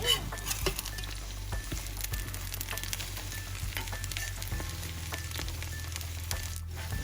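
An egg with wild garlic fries in a pan with a continuous, dense sizzle and crackle, close and steady throughout, broken by scattered small pops and a brief louder scrape near the end.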